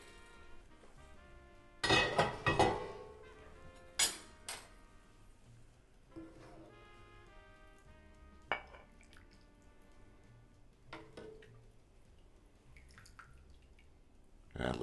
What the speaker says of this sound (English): Now it's time to put in the sensational shrimp gumbo.